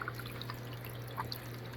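An aquarium filter pump feeding a 72-gallon goldfish tank runs quietly as water pours and trickles steadily, with small splashes and drips over a faint low hum.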